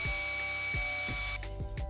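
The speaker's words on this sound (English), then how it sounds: "Drill a new hole" Drill boring a new hole through the plastic mounting lug of a repaired car headlamp, a steady close mechanical whir with a repeating rhythmic grinding pulse, ending in a brief rougher burst.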